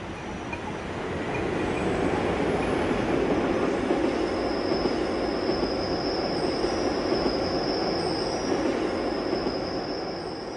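Bernina Express passenger train running steadily on rails, a continuous near rumble with a high wheel squeal along the track, heard alone without voices.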